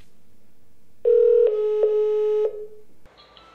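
A phone call connects with a clear steady tone interrupted by a few short clicks and pauses, followed by a brief buzzy signal, loud and close, with no talking.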